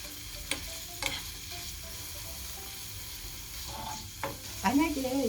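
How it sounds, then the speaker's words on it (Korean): Garlic stir-fried in hot boiling oil over medium heat, a quiet fry with a few sharp clicks of utensil on pan and sputtering bursts rising near the end. "이 기름에다가 마늘을 이렇게 볶아줘 볼게요"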